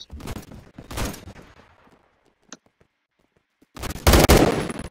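Roblox gunfire comes in loud, rapid automatic bursts at the start and again at the end, with a near-silent gap between them and a few faint clicks, close and harsh with no talking.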